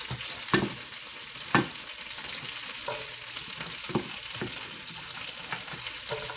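Carrots fry in hot oil in a pan with green beans, giving a loud, steady close-up hiss throughout, broken by several irregular scraping and clattering stir strokes, with no talking.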